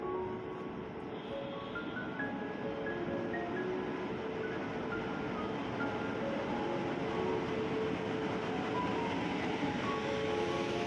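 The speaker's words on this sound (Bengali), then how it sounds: "এইদিকে ট্রেন চলে এসেছে চলো তোমাদেরকে একটু ট্রেনটা দেখিয়ে দিই" A passenger train pulls into a station with a steady low rumble and rolling rail noise, several faint horn-like tones sounding over a crowded platform hum, with no clear talk.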